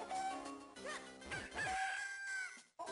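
Chicken in the video game Zelda: The Minish Cap, a loud close rooster crow with rising and falling pitch, followed by clucking and squawks, ending in a brief pause and a short burst.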